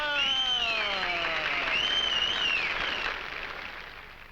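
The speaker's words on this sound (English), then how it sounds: "I fail to see why the location of birth should be met with applause." A studio audience on a quiz show in the 1950 film Champagne for Caesar bursts into applause with loud rising and falling whistles over the clapping, which tapers off toward the end.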